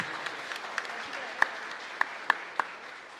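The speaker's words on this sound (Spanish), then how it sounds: "Así que para ellos un fuerte aplauso" Sparse applause from a congregation at a Sunday Pentecost Mass in a chapel, a few scattered claps standing out over a soft, low background, brief and moderately faint.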